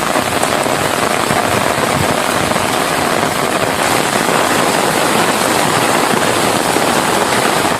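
Heavy rain driven by strong wind pours down over countryside around Ettayapuram and Pasuvanthanai in Thoothukudi district, Tamil Nadu, a dense, steady roar of drops drumming on surfaces, loud and continuous with no talking.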